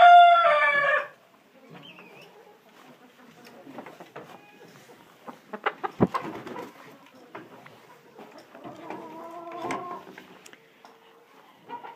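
A rooster crows loudly at the start, then scattered clucks and soft rustling from chickens in a coop with hay bales, with another drawn-out crow or squawk near the end.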